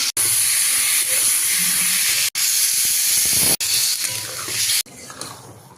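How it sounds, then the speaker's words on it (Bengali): Shyama rice (barnyard millet) and lentils frying in a pot make a loud, steady hiss that cuts out abruptly a few times and thins to a fainter sizzle near the end. "এবার চাল ডালটা দিয়ে ভালো করে একটু ভেজে নেব"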